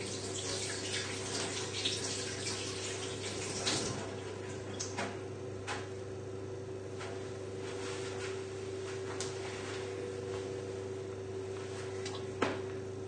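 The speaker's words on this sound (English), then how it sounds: "if you need to give your hands a wipe or a little wash" A kitchen tap runs quietly for hand washing, a soft continuous water flow in the background with scattered small clicks and knocks over a steady low hum.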